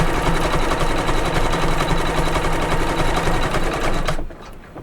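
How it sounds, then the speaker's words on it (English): Embroidery sewing machine stitching a double stitch on a quilted pillow block over leather, a loud rapid steady mechanical chatter running continuously, then stopping abruptly near the end. "I see it stitching like a nice little double stitch going around."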